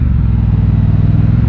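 A Triumph Bobber motorcycle engine pulls in first gear with a loud, close, low throbbing rumble that pulses steadily without a break.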